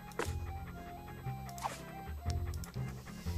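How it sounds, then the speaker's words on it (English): A dog in the video game LeChuck's Revenge pants in quick, breathy bursts over looping game music. "Here, doggy, doggy."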